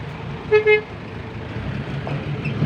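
A car horn gives two short toots close by at a roadwork site with a SANY SY215C excavator, then traffic rumble continues underneath.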